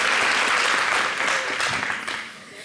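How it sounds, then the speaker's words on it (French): Audience applause in a TV studio, a dense burst of clapping that holds steady for a couple of seconds, then thins and tapers off. "Applaudissez pour moi, s'il vous plaît."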